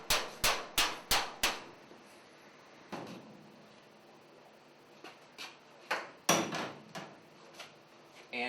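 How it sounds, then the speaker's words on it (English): Hammer tapping a sheet metal transition into place in a workshop, with a quick run of five sharp, ringing strikes, then scattered single taps of varying loudness, close and unaccompanied by talk. "get a hammer and tap that into place"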